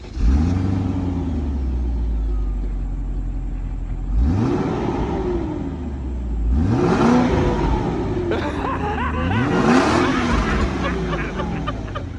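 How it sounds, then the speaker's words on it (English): A BMW E34 with its stock muffler revs several times, each rising engine sweep climbing and falling at close range, with an idle rumble between bursts and a voice briefly heard. "we also did a little quote-unquote exhaust tease, or whatever you want to call it"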